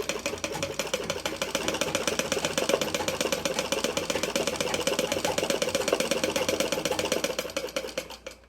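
A Singer 9w7, a Wheeler & Wilson D9 clone sewing machine, stitches steadily as its wheel is turned, giving a continuous fast rhythmic mechanical whir and clatter close by that runs without pause and cuts off at the end.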